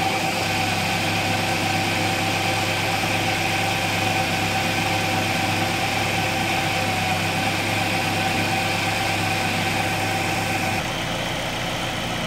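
Car engine idling steadily while warming up during an oxygen sensor check, a continuous close, even hum with a faint whine that drops a layer near the end, no voices.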